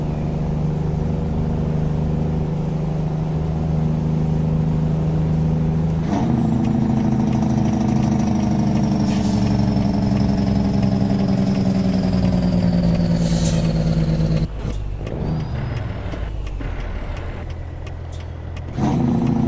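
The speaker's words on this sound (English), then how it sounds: "Just let you guys listen to this Cummins." A heavy Cummins diesel truck engine in American Truck Simulator idles with a deep, steady rumble, then revs higher, with a sharp air-brake hiss near the end.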